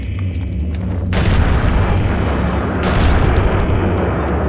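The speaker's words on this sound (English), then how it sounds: "I think that means I have the grenade now." A grenade goes off in the video game Eternal Darkness with a loud, sustained boom. A heavy rumble fills the whole stretch, and a second burst follows partway through. No one speaks.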